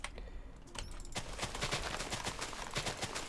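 Rapid string of explosions in Minecraft, many sharp overlapping blasts crackling in quick succession at moderate loudness, after a brief quieter opening.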